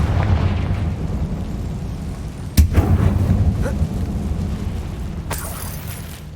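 A Confringo fire spell detonates in Hogwarts Legacy inside a closed, tomb-like mine, a single sharp blast followed by a rumbling tail under steady game ambience, with a later crackling burst.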